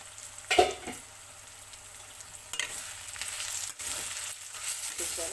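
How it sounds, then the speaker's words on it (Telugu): Ivy gourd masala with salt and chili sizzles steadily in a pan, with occasional stirring scrapes and clatters over the constant frying hiss. "ఉప్పు కారం మసాలా ఇలాగ వేగిపోవాలండి."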